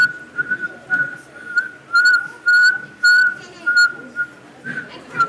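A person whistles an imitation of a saw-whet owl's call: a clear, steady high tone repeated in short, regular toots, close and fairly loud, with no talking.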